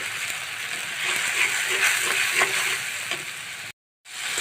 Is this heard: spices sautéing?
yes